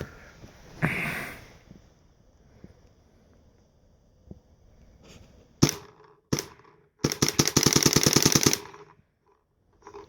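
A WGP Karnivor pro edition paintball marker fires a fast, loud burst of sharp snapping shots around 8 per second near the end, after scattered single pops and quiet handling noise.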